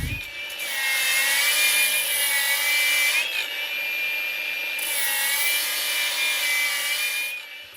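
A cordless drill whines at a steady high pitch while a grinding stone rasps against a hand-forged axe, briefly dipping and resuming.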